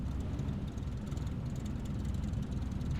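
A Cessna light aircraft's piston engine drones steadily at a runway holding point before takeoff, a continuous low propeller hum heard from inside the cabin without speech.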